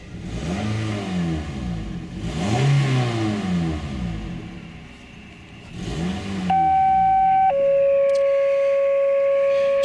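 Small car engine revving in several rising and falling bursts, close and loud, followed by steady tonal beeping near the end.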